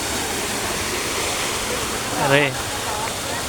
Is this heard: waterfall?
yes